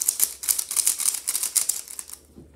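A speed cube is turned quickly by hand, giving a rapid run of close, crisp plastic clicks for about two seconds before stopping.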